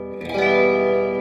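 An electric guitar with its tone knob rolled back from the neck pickup rings out in a single sustained chord, swelling after a soft attack and carrying a chorused, slightly echoing shimmer.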